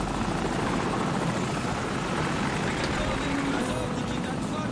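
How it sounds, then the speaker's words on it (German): Helicopter from the video game Call of Duty 4, a steady loud rotor drone with broadband noise filling the whole stretch, with game speech faintly underneath. "Oh, Heli!"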